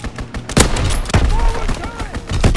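Strafing-run gunfire in a video game: a few sharp, loud bursts of shots at uneven intervals over a busy battle background.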